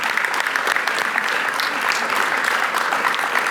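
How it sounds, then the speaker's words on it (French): Townspeople at a New Year's greetings ceremony in a town hall break into sustained applause, a dense, even round of clapping from a sizable crowd throughout. "on peut s'applaudir"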